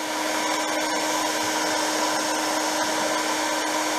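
A heat gun blows hot air onto a plastic speedometer part from a Honda CB200 motorcycle, making a steady, loud, unbroken whoosh with a constant motor hum and no voices.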